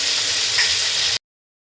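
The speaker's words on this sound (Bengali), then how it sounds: "সর্ষে আর কাঁচা লঙ্কা দিয়ে সুন্দর করে মাছটা ঝাল দেওয়া করবো।" Fish simmers in mustard and green chili sauce with a loud, even sizzle and frying hiss for about a second before cutting off abruptly.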